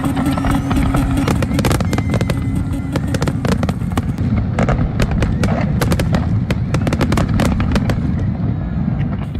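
New Year fireworks at the Sheikh Zayed Festival in Abu Dhabi, a record-long display, fill the air with a loud, continuous barrage of crackling bursts and booming bangs that overlap without pause.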